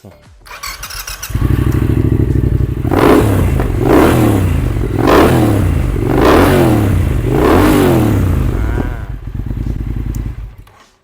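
A 2021 Triumph Thruxton 1200 RS fitted with dual left and right slip-on exhausts, idling then revved in five sharp, close throttle blips with a rumbling twin-cylinder burble between them, loud and alone.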